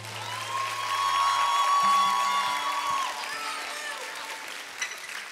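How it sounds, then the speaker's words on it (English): A conference audience applauds at the close of a session, a steady burst of clapping from a large crowd that holds strong for a few seconds and then tapers off. "Give yourselves a round of applause."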